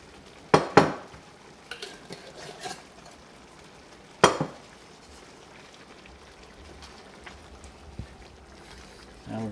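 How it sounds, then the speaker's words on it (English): Utensil clanks and scrapes against a pan as BBQ shrimp with onions is stirred, a few sharp metallic knocks over a faint bubbling sizzle, with scattered lighter clinks between them. "Now we're going to stir that in there."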